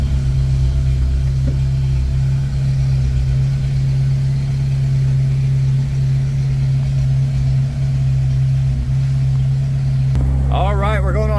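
1995 Jeep Wrangler S engine on a test drive, a loud, steady low drone holding an even tone throughout, with a brief higher whine rising near the end.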